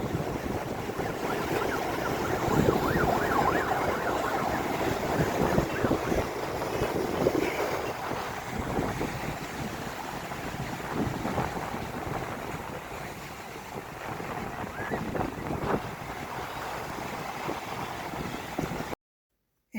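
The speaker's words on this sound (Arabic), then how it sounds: "الامواج عالي جدا" Loud sea waves break and wash along the beach at Alexandria, a steady roar of surf mixed with buffeting wind noise on the microphone, continuous for the whole stretch with no talking.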